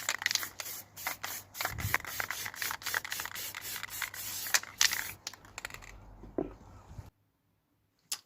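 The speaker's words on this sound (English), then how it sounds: "we'll be ready for spraying on some of our varnish" An aerosol can sprays gloss varnish onto a wooden garden shed sign routed out of fencing wood, giving a close, hissing, uneven stream of short bursts and rattly handling noises before stopping.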